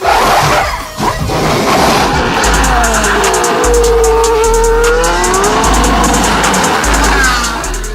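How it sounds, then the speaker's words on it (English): A race car capable of about 200 miles an hour roars and revs at a professional racing event, its loud engine surging and shifting pitch with whooshing passes and rhythmic clicking throughout. "got to hop in a car that goes 200 miles an hour"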